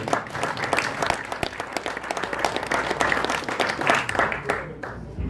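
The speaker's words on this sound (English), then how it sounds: "Big round of applause." Keynote audience at a cloud architect alliance event breaks into a big round of applause, dense steady clapping throughout with a few voices mixed in, fading slightly at the end.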